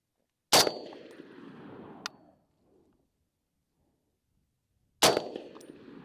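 Two sharp rifle shots from a Springfield M1A fired at a target ring out several seconds apart, each a hard crack with a metallic, ringing decay.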